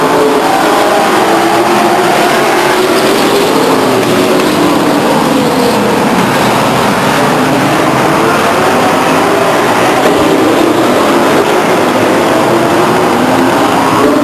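Race cars roar around the Stockton 99 Speedway oval, a loud, continuous wash of engine noise and revving that holds steady throughout with no break or talking.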